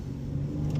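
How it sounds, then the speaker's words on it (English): A 2027 BMW M3 at full throttle gives a brief, steady low engine drone with a slight rising whir, heard alone and close. "Go ahead and floor it."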